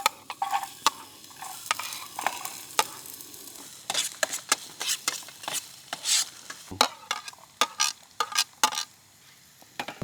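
Onions frying in cooking oil at a camping spot, with a low sizzle under frequent sharp scrapes and knocks of a utensil stirring in the pan, close and irregular.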